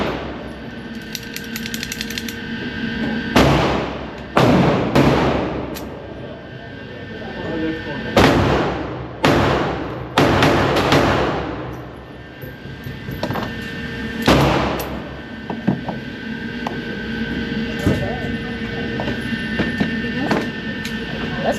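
Girsan MC14 .380 pistol firing at a shooting range, with loud, sharp reports arriving irregularly, several in close succession, over steady outdoor background noise.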